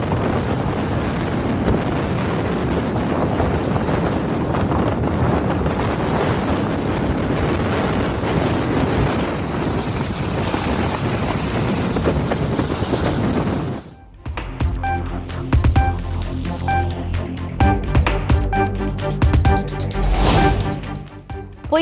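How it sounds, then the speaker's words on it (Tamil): Strong cyclone winds from Cyclone Dana, gusting near 120 km/h, roar steadily and loudly for over ten seconds before giving way to a different, music-like passage. "மணிக்கு 120 கிலோமீட்டர் வேகத்தில் சூறைக்காற்று வீசியதால் பல இடங்களில் மரங்கள் முறிந்து சேதம்"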